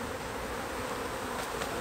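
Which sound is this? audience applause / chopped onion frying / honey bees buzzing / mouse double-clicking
honey bees buzzing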